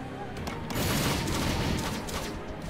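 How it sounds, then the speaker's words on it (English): Missiles and rapid gunfire in the mobile bullet-hell game Dragon Heroes, a dense continuous barrage of booms and crackling shots that fills the whole stretch, loud and unbroken. "There's missiles and stuff coming at me."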